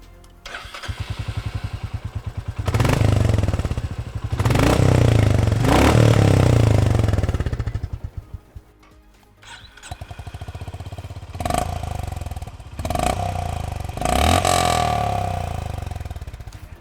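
Royal Enfield Classic 350 and Honda H'Ness CB350 motorcycle engines started and revved one after the other, loud close thumping bursts of throttle separated by a brief quieter idle, with no talk.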